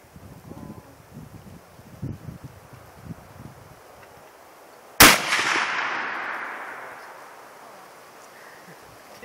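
A single loud gunshot cracks sharply outdoors after quiet murmuring voices and wind, its echo trailing off for several seconds.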